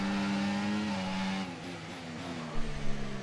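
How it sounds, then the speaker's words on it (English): A race car in a racing video game drifts with its engine droning at a steady pitch, then shifting and dropping as the tyres skid and scrub, close and continuous, without talk. "Drifting into there."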